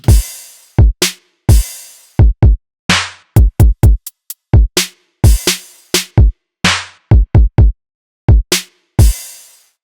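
A punchy witch house electronic drum pattern made in FL Studio plays alone: tight kicks, snappy snares, some pitched lower, and crisp hits in a steady, syncopated rhythm with short gaps between beats.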